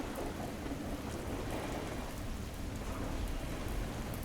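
Steady, dense rain falls on a tin roof of a stone-walled house, a continuous hiss with a low rumble underneath, unbroken and with no voices.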